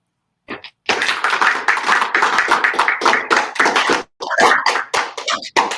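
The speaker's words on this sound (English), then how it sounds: "let us now give them a round of applause" Applause from a tech seminar audience greeting software engineers: a short burst of clapping, a brief pause, then sustained dense clapping, a gap near the end before it resumes, fairly close and loud.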